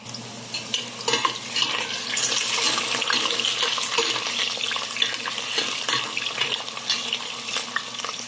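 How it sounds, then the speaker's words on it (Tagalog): Potatoes frying in a pan for a home-cooked dish, a steady broad sizzle with clattering stirring and some water-like hiss throughout, close and fairly loud, no talking. "Ipiprito po muna natin yung patatas sa carrots."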